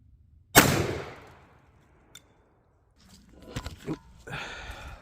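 A .410 shotgun fires #7-1/2 birdshot into ballistic gel: one loud, close blast with a decaying tail, followed after a pause by faint clatter and handling noises.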